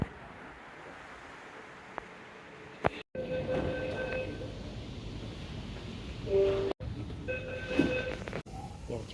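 Metro train at Lalbagh station, a steady low rumble of the train and platform with brief tonal whines and electronic tones, cut by a couple of abrupt breaks, no talk.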